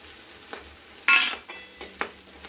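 Ground cumin, coriander, Kashmiri chili and turmeric are stirred with taro greens in a hot pan. A low sizzle runs under several scraping strokes, one louder burst of hissing and spoon scrapes in the middle, and lighter scrapes later.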